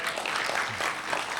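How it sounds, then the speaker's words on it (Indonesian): A church congregation bursts into brief, dense applause for God during an FGBMFI testimony session, a short even wash of clapping from many hands. "Tepuk tangan buat Tuhan"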